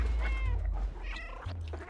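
A cat character in the video game Stray meows a few times over a low game rumble, short plaintive calls spaced across the moment, near and clear.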